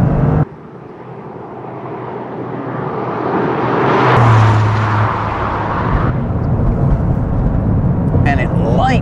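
A 2023 Toyota GR Corolla Morizo pulling hard in fourth gear on a twisty road, the engine drone rising loudly to a peak and then holding, heard from inside the cabin.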